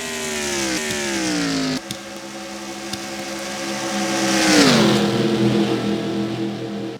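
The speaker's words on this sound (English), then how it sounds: "Last few cars getting across the line." Stock-car race engines in a NAPRA Holley HP Cup Series Can Am Duel drone loudly as cars cross the finish line, a steady multi-car roar that drops in pitch as one passes, then swells again.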